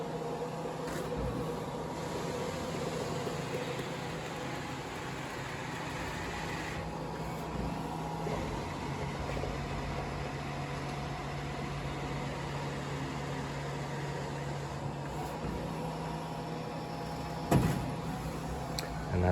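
A vinyl printer loads a 3M media roll, feeding it back and forth with a steady low mechanical hum and faint motor whirring, with a few soft shifts and a small clunk near the end.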